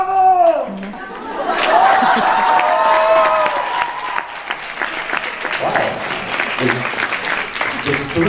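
A convention panel audience breaks into sustained clapping and cheering after someone speaks, the applause filling the room steadily, with some voices mixed in.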